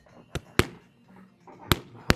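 Four sharp punches smack Muay Thai pads in close, loud, clean strikes, a cross hook cross combo landing at uneven spacing with quiet pauses between.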